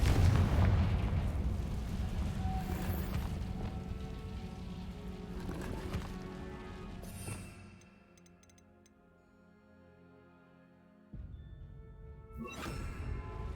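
A Confringo explosion spell goes off in the video game Hogwarts Legacy: a rumbling, crackling blast that fades over several seconds, followed by a brief lull and then another burst of noise.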